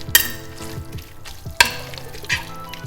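Red wine vinegar, balsamic vinegar and oil being whisked together in a bowl, giving a repeated scraping and clinking rhythm with short sloshing strokes, close and fairly quiet.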